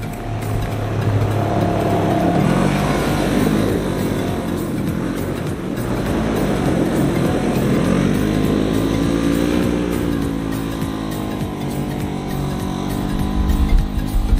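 A Polaris RZR 900 side-by-side drives and drifts nearby, its engine droning steadily throughout with rising and falling pitch sweeps as it slides past, loud and continuous with no talk.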